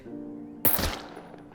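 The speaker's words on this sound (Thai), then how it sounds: "อันนี้จะเป็น การทดสอบเกราะเลเวล2กับ AK กระสุนเทเซอร์นะครับ" An AK rifle loaded with tracer rounds fires at level 2 armor in the video game SCUM. A single loud, sharp shot cracks over a faint background hum, then decays quickly.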